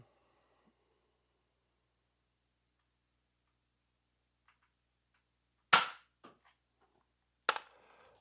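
Gunshots from a shooting technique demonstration in the field: two sharp, loud reports about two seconds apart, each followed by a short echoing tail, after long near-silence.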